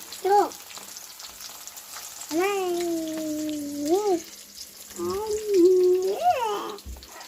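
Two long foli fish fill a large frying pan and sizzle in hot oil with a steady crackling hiss, while a voice talks over it for most of the clip.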